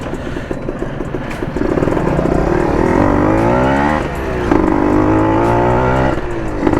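A Kawasaki KR150 two-stroke motorcycle still in break-in runs hard nearby, its engine note climbing and falling through revs with a brief dip midway, loud and steady with no talk.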